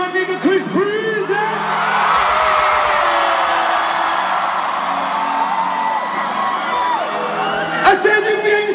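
A large arena concert crowd in Paris screams and cheers in a dense sustained roar, with shouts and whoops rising over it, while a performer's amplified voice calls out at the start and end.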